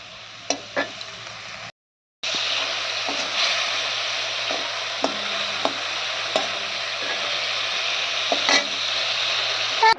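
Pointed gourd and fish frying in oil in a pan, a constant close hiss broken by a brief silent gap and scattered clicks of a spatula stirring.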